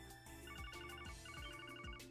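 A video game telephone rings in a repeating electronic trill, steady and fairly loud over a continuous music bed, with no talking.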